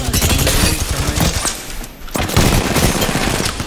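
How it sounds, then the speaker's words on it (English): Video game gunfire roars in loud, dense automatic bursts that hammer almost nonstop, briefly thinning near the middle before resuming at full intensity. "Opening fire."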